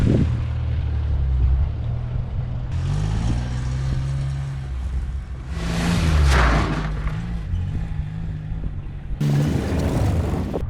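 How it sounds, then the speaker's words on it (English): A small car's engine hums steadily from inside the cabin on a rural road, a continuous low rumble with shifting tones and occasional louder bursts of road or wind noise. "The engine chugs along, no weird noises."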